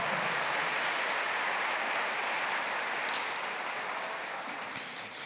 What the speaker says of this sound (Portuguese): Aplaude o seu irmão do seu lado, porque você deu já um passo.